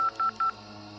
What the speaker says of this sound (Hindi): फोन मिलाने लगी, पर उसका फोन लग ही नहीं रहा था।